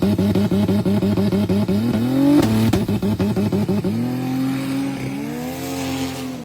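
A tuned car holding revs on two-step launch control gives a rapid, stuttering burst of exhaust pops, then launches into a loud rising engine pull through a gear change, close and with no talking.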